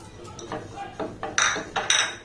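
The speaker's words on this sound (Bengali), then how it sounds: "তো সুজিটাকে আর ময়দাটাকে একটু হালকা নাড়াচাড়া করে ভেজে নিতে হবে" Semolina and flour being stirred while roasting in a frying pan, heard as a handful of separate scraping clinks of a spoon against the metal pan, getting louder toward the end.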